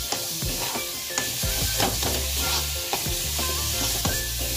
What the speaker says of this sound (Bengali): ভালো করে পুরটাকে মেশাচ্ছি